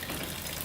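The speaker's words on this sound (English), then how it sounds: "We've got like a gas water mixture draining out of the tank." A mixture of water and gasoline pours out of an old ATV's gas tank, a steady, close gushing stream with no pause or talk.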